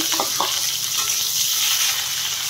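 Onions frying in hot oil with bay leaf, cardamom and cinnamon for an Odia egg paneer curry, giving a steady, dense sizzle and crackle throughout with no talking.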